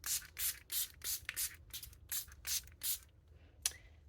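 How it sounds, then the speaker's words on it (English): Rose water toner misted onto a face from a pump bottle, a series of about eight quick, close hissing sprays in a steady rhythm, each a short burst, with a small click near the end. "And then I spray my face with my rose water toner."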